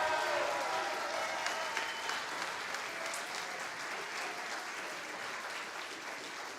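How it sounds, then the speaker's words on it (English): Audience applause for Legacy High School as host of a school tournament awards ceremony, sustained clapping from a large crowd that stays steady and fairly distant throughout, with a faint voice in the background. "Can we get a loud round of applause for Legacy High School?"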